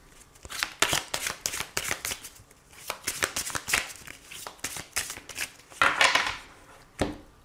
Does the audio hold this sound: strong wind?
no